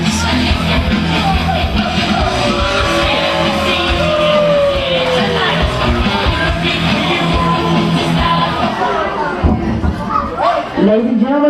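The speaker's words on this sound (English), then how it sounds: "Listen to that crowd, Jason James. Unbelievable, a split crowd here in Millersville." A split wrestling crowd in Millersville roars and yells in a packed arena, a loud continuous wall of shouts and whoops with rising chants, sustained throughout and swelling near the end.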